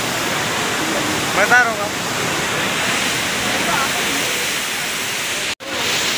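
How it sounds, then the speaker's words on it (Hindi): Waterfall in Kerala, a steady roar of falling water that fills the whole clip, with brief voices and a short interruption over it. "ये सबसे फेमस और सबसे बढ़िया वाटरफॉल है"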